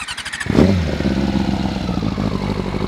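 A Yamaha YFZ quad fitted with a swapped-in R6 motorcycle engine fires up abruptly after a brief clatter, then settles into a loud, close, steady idle with a rough throbbing pulse.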